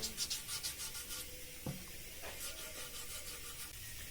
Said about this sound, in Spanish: pasar un poquito más la lija del 500, que es la que nos toca a continuación